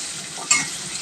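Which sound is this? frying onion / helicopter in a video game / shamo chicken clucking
frying onion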